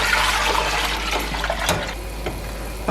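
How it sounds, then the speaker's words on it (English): Water is poured steadily into a cooking pot for cassava leaf vegetable soup, a continuous close splashing rush with a few sharper clinks partway through. "I'm gonna add more water."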